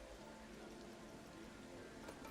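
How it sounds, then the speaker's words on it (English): Heavy rain from a Planet Coaster 2 theme-park game, a steady, dense hiss of falling drops that stays even throughout at low level, alone without talk. "It's heavy rain though."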